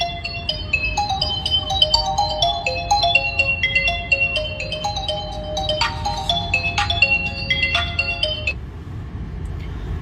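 A mobile phone ringtone plays a bright, repeating electronic melody of stepped beeping notes for about eight seconds, left ringing inside a Tata Safari, with a low steady rumble beneath before the tune cuts off.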